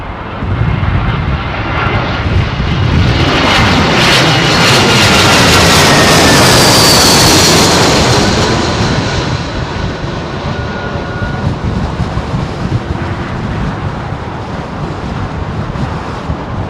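An airliner on approach to runway 27L passes low overhead at London Heathrow Airport on a very windy day, its jet roar building loud and close, then fading, with wind buffeting the microphone throughout.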